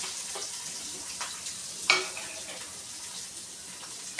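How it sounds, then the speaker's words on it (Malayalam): Onion, garlic, ginger and green chili sauté in hot oil in a pan, giving a quiet, even sizzle with a brief louder spit or stir near the middle. "ഇത് നല്ലവണ്ണം മൂപ്പിച്ചെടുക്കും."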